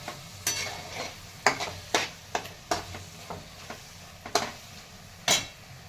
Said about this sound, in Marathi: हे वटाने पण छान परतून घेतले वांग्यामध्ये मिक्स करते